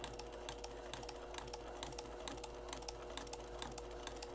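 A long-arm quilting machine stitches along a line on quilt blocks, producing a rapid, even ticking of the needle over a low steady hum, fairly faint and uninterrupted.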